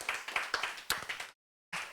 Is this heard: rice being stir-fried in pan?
no